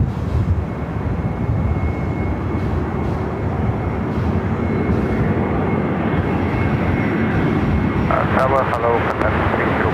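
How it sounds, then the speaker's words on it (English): An Airbus A321neo airliner arrives at LAX, its steady broadband engine roar filling the scene continuously at close range, with a brief rattling flutter late on; talk is faintly present underneath. "A321neo coming in from Seattle."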